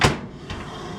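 A Kenwood 40-litre combination microwave oven door thuds shut with a single sharp knock close by, followed by a softer second bump and faint room noise.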